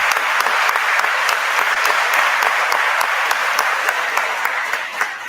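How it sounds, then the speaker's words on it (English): Audience applause in an auditorium at a community meeting, a dense, steady round of clapping with a few sharp individual claps standing out, tapering slightly at the end. "Let's give a big round of applause to EJ Hayes."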